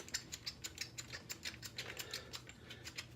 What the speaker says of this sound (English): torque wrench out, and we're going to set this up to 40 foot-pounds